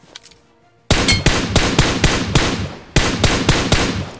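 Gunfire in the video game BGMI (PUBG): after a quiet start, loud rapid bursts of shots ring out in two clusters, several sharp reports each, close and dominant.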